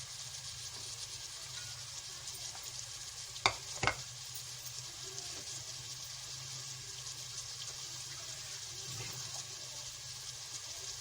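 Potatoes and peas fry and get stirred in a pot, a steady soft sizzle running throughout with a couple of sharp clanks of the utensil near the start.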